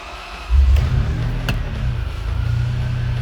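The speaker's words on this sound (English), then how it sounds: "How about we fire it up for you after all that chit chat" A 1999 Ferrari 550 Maranello's engine fires up with a sudden low rumble, settling into a steady, smooth idle heard up close with no talking.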